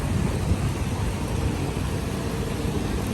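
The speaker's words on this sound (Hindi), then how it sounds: "और हैवी किस्म की इस वक्त यहाँ पर रेनफॉल चल रही है।" Dense, steady monsoon-style heavy rain roars without pause, a heavy continuous wash of noise with a low rumble underneath.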